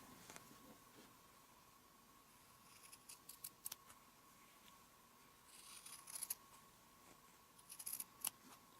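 Scissors snipping along the sewn edge of an infinity scarf fabric, faint quiet cuts in short clusters over a steady low hum.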